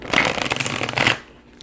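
A thick Last Unicorn Tarot card deck is shuffled close by in two quick riffling bursts of papery flutter, which then fade to near silence.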